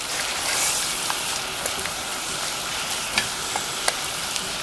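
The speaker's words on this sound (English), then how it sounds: "I'm going to stir the sugar in so that it fully dissolves" Sugar stirred into a pot of boiling syrup for Neapolitan struffoli, with a dense, continuous bubbling hiss and occasional faint spoon ticks against the pot, close and steady throughout.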